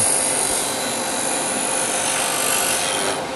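Wooden sphere spinning on a lathe as its ends are turned off, a steady broadband scraping and rubbing of tool against wood, continuous and close with no pauses.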